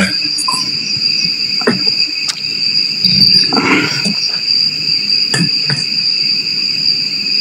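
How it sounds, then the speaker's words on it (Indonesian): Crickets chirping loudly and steadily in two high sustained tones, with brief rustles, knocks and a low murmur of voices in between. "Aduh, ini jangkriknya."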